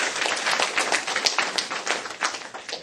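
An audience at a women's education event applauds, a dense wash of many clapping hands held at an even, fairly loud level throughout.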